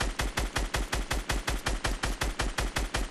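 Evenly spaced automatic gunfire in the video game Fortnite, a steady rhythmic stream of roughly five shots per second, loud and close, with no voices over it.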